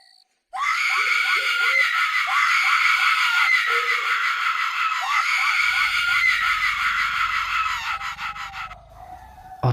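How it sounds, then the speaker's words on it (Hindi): A woman's long, loud horror scream sound effect, sustained shrill and wavering for about eight seconds before fading, with no talk over it. "अंदर कमरे में बंद पड़ी नफीसा की एक चीख गूंजी।"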